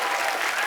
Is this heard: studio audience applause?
yes